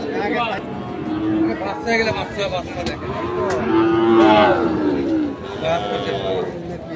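Sahiwal breed calves at the Ambari cattle market moo repeatedly in long drawn calls, close and loud, over a busy backdrop of crowd chatter and people talking.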